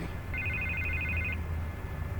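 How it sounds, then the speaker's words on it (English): A telephone rings in Batman: The Telltale Series, a rapid electronic trill held for about a second over a steady low game ambience, close and clear with no talk. "I can't get the phone to stop ringing"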